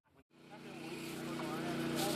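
Small engine of a Thai brush or grass cutting machine revving up to full throttle after a brief cutout, a rising, sustained buzzing drone held close, with faint talk beneath.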